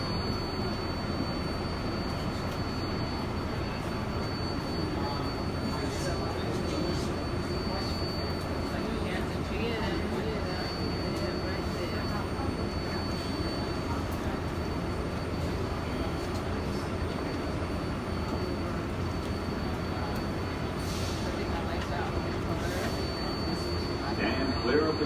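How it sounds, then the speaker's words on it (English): A New York subway R188 7 express train runs toward Flushing–Main Street from Queens Borough Plaza, giving a steady, loud rumble and rail roar that holds constant throughout, with faint high squeals near the end. "This is a Flushing Main Street bound 7 express train."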